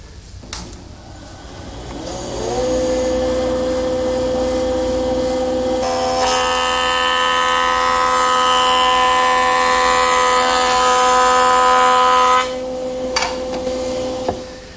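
A woodworking jointer squares board edges for a butcher block. The motor spins up to a steady loud whine, and a board feeds through in a continuous pass of brighter cutting noise before the machine winds down, with no talk.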